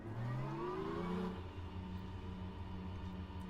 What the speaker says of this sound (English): fire up the Bimmer and see what we can actually do with it around here